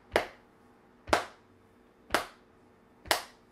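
Four crisp hand claps land about one second apart in an even rhythm, sharp and close, with near silence between them.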